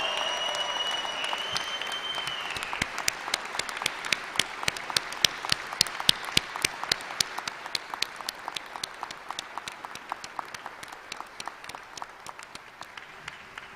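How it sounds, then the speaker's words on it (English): Clapping rises at the May 2021 SUNY Oswego commencement ceremony, with distinct individual claps at first, then a thicker middle stretch that gradually thins. A faint tone sounds early underneath, and the applause is moderately distant. "Well, I think that deserves a rousing applause."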